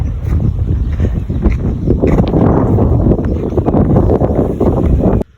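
Strong wind blows outdoors in a village, buffeting the microphone with a loud, continuous rumbling roar that cuts off abruptly at the end.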